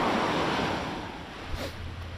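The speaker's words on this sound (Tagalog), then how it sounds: "Ang ganda ng dagat no." Sea waves wash onto the shore in a broad steady roar that slowly fades, with wind buffeting the microphone outdoors.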